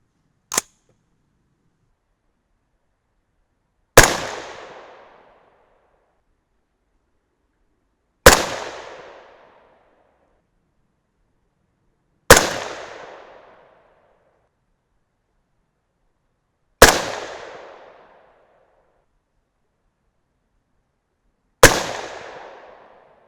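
Six 6.5 Grendel rifle shots with 120-grain Speer Gold Dot loads and Power Pro 2000 MR powder, evenly spaced about four seconds apart, each a sharp close crack with a brief decaying tail, silence between.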